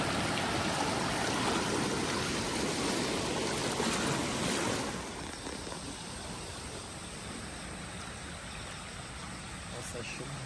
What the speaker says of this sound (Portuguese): forte a correnteza